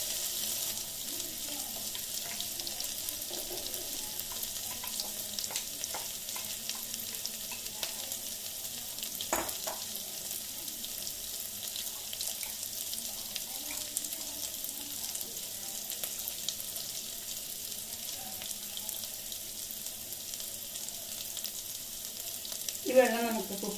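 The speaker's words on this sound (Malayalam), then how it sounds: "ഞാൻ ഈ അരി ഒന്ന് അരിച്ചെടുക്കുകയാണ്." Water drains from rice being strained for chicken biryani in a kitchen, a faint, steady trickling hiss running continuously for over twenty seconds, with a brief clatter near the end.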